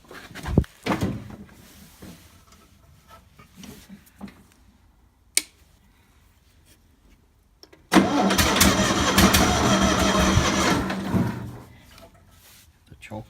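A Kohler engine on a Bobcat skid steer loader cranks and fires, then roars loudly for a few seconds before cutting back. Earlier there are scattered clicks, knocks and quiet sounds of someone working.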